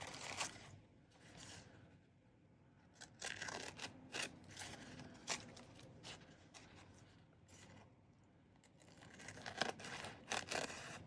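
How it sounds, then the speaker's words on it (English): Scissors cut paper cards for a junk journal in short, faint snips and rustles that come in irregular bursts, close by in a quiet room. "So I'm just gonna cut"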